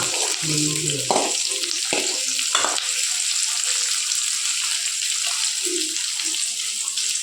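Egg rice sautéing in a pan under constant stirring, a continuous, fairly loud frying hiss with a few dull spoon knocks against the pan early on.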